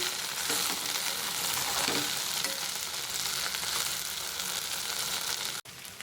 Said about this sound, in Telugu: బెండకాయలు అనేవి సగం దాకా వేగిపోయినాయండి